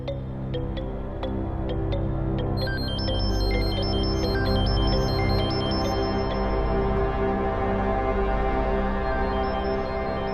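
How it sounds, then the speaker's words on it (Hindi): A phone ringtone plays a short, repeating high electronic melody in a scene from a Hindi-dubbed South Indian action film. It starts a few seconds in and rings steadily over a dense, constant low background score. "फोन की आवाज आ रही है।"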